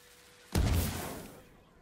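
A black powder bomb going off in the samurai game Ghost of Tsushima Legends: one sudden muffled blast that rumbles and fades over about a second against quiet background.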